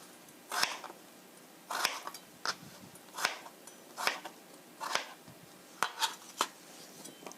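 A knife cuts ingredients for chicken curry on a cutting board, giving about nine crisp, separate chops at an uneven pace against a quiet background.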